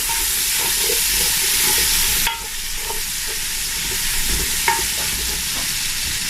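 Vegetables for cabbage sauce sizzle steadily in hot oil over medium-high heat while a utensil scrapes and stirs the pan in occasional clicks, close and fairly loud.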